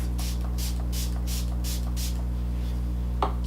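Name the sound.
spraying setting spray onto makeup sponge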